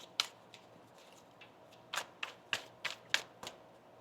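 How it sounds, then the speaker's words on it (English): A deck of oracle cards being shuffled by hand: a series of sharp riffling flicks and soft taps, several quick bursts clustered toward the end, quiet and close with no talking. "One more shuffle."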